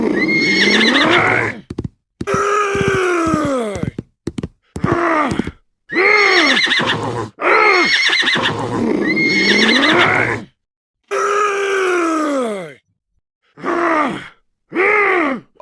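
Repeated loud, close horse whinnies and neighs from a Hindi animated village folk tale. The calls come in long descending bursts separated by short pauses, with a few breathy grunts and no talking.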